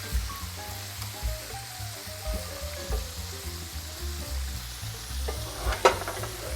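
Food frying in a pan of hot grease, part of an onion and zucchini muffin dish cooked by a professional chef with an amateur, gives a steady close sizzle with scattered pops and utensil knocks, no talking over it.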